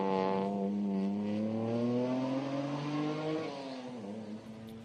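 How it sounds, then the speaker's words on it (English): A BMW E46 touring car's straight-six engine revs hard at a Queensland Touring Car Championship sprint, a loud, sustained rising howl with rich harmonics that eases off and shifts pitch toward the end. "Unmistakable sound of a BMW straight 6 working hard."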